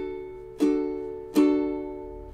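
Ukulele strummed on the beat, heard as two crisp strums about a second apart, each ringing out, close and alone.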